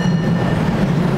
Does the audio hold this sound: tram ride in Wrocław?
yes